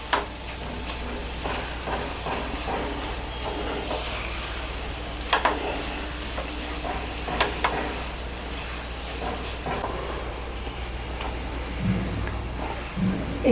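Besan and coconut barfi mixture is stirred and sautéed in a pan, producing a steady soft sizzle and scraping with occasional light clinks of the spoon against the pan.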